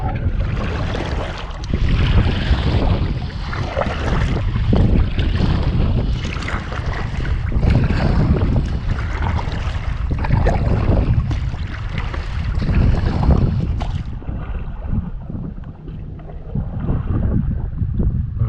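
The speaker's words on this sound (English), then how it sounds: "And now comes the murderous upstream paddle." A kayak is paddled upstream through mangrove water, steady splashing and churning strokes close to the microphone under gusting wind noise, with the sound dropping away briefly near the end.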